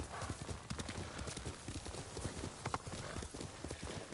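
In Ghost of Tsushima, a horse gallops with a steady, rapid clip-clop of hooves over a dense ambient bed, and a brief whinny breaks through.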